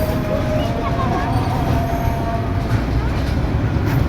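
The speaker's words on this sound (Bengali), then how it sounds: "এই যে চলে গেল ট্রেন" A train from Kishoreganj rumbles past loudly and steadily, a dense roar with faint tonal squeals fading out, while people talk over it.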